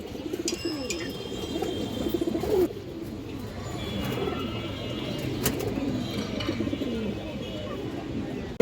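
Pigeons at a loft, including a big orange male, coo in low repeated murmurs, soft and close, with faint chirps and a brief flutter mixed in.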